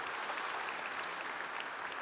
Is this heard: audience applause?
yes